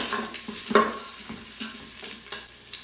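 Vegetables brown in a little oil in a pan, with close, soft sizzling and several scraping stir strokes, one louder clank near the start.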